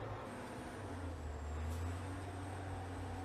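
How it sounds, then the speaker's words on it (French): A loader working underground in a mine, used to fill haul trucks: a steady, loud diesel rumble with a constant low drone and a thin high whine, holding even throughout. "La chargeuse, c'est une machine qui charge les bennes, les DT."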